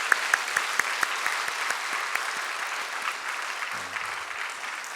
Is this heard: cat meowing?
no